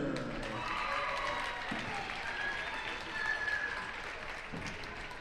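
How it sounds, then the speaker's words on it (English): A gym crowd at a high school basketball game applauds teachers being honored, with steady, moderately distant clapping that holds for the whole stretch while a public-address voice carries over it. "a nice round of applause for our teachers on your special honor this evening"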